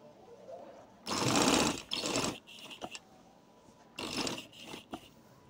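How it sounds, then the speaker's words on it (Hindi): A sewing machine stitches a kameez sleeve in short bursts, first a long run of rapid close whirring, then briefer starts and stops, with a quieter room between runs. "देखो बराबर रख के आपने इसको सिलाई लगानी है"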